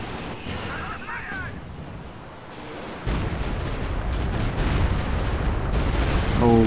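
A mortar pit blown up during a 2v2 Company of Heroes 2 battle: a continuous wash of distant artillery and gunfire rumble, with a heavier explosive boom stepping the din up midway and staying loud afterward.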